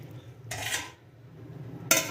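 A metal kadai (wok) is set down onto a kitchen gas stove while mung dal is being cooked, giving two sharp metallic clanks about a second and a half apart over a low background hum.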